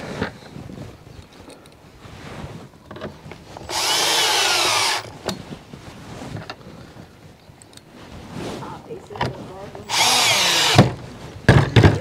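Power drill driving screws while installing electric fence for cattle: two loud sustained whirring bursts, each about a second long, separated by quieter handling noises and rustling.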